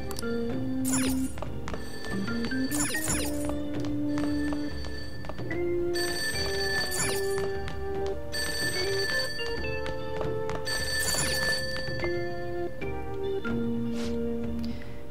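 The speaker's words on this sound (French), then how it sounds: "J'entends une sonnerie, mais ça ne vient pas de mon téléphone." Telephone ringing repeatedly downstairs in the video game Persona 5, with bursts of bright ringing over continuous background game music, fairly loud throughout.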